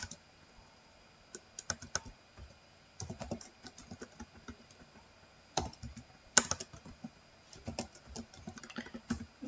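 Code is typed on a computer keyboard in quick, uneven bursts of close, crisp key clicks separated by short pauses, with no talking.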